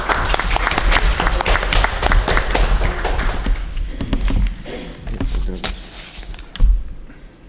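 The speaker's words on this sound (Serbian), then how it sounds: "jedan lep aplauz je da još zaslužila za njen debit" An audience at a literary evening applauds a young performer's debut, with loud dense clapping that fades and thins toward the end, followed by a single sharp knock.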